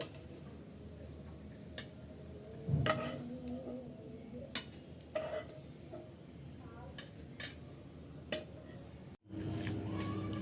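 Softened, lightly fried onions being lifted from a pan for a bitter gourd (kakrol) mash, giving faint scattered clinks and scrapes of a utensil over a quiet sizzle, with a brief gap near the end.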